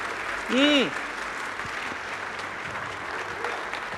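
A church congregation claps together in a sustained, even patter of hands during a Portuguese-language service, while a voice briefly calls out over it early on.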